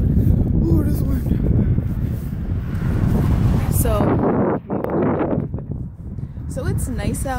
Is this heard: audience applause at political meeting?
no